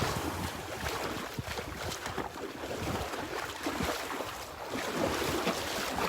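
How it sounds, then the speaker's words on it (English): Breezy northeast wind blowing steadily on Delnor-Wiggins beach, a continuous broadband rush with gusty buffeting against the microphone and surf-like wash underneath, fairly loud and unbroken throughout. "Those flags are blowing, the wind coming out of the northeast."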